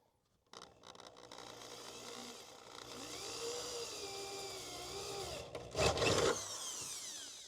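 A power drill whines steadily while boring through the metal bed of a Ford F150 pickup truck, its pitch rising and shifting under load before a sharp grinding burst as it breaks through.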